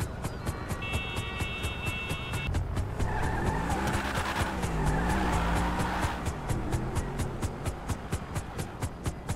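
Car driving and skidding in GTA 5, a steady engine drone with a long smeared screech of sliding tires in the middle, then sharp rhythmic clicks and thumps as the car rolls on, loud and close with no talk.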